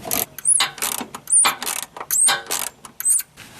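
A riv nut gun squeezes long riv nuts into steel while rock slider rails are installed on a 4X4, giving loud, close ratcheting clicks in four or five repeated bursts.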